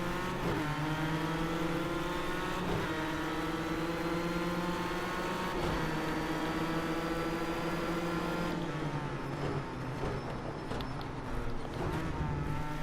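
Race car engine screaming on a track in a racing video game, a loud sustained whine that climbs through gears with brief dips at each shift, continuous and close.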